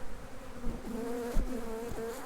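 Honeybees caught inside a microphone buzz loudly and very close, a wavering drone that rises and falls with a few sharp bumps against the mic, during a spring backyard hive inspection.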